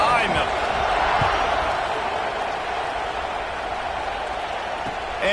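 Football stadium crowd at a Cincinnati versus South Carolina college game roars steadily at kickoff, a loud, continuous wash of cheering that holds for several seconds, with a broadcaster's voice faint beneath it.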